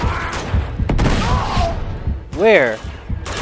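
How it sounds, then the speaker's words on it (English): Gunfire in the game Uncharted 2: Among Thieves, several sharp bursts and thuds in quick succession mixed with a player's excited talk, one shouted word over the shots. "Who is shooting me?"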